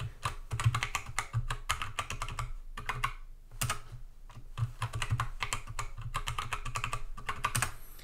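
A password typed on a computer keyboard, rapid close key clicks in irregular bursts with a brief pause midway, no voices.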